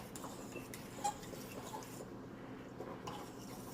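Shrimp egg foo young egg mixture is stirred in a bowl, giving soft, irregular clinks and scrapes of a utensil against the bowl, faint and close with no voices.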